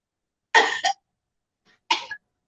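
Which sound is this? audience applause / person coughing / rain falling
person coughing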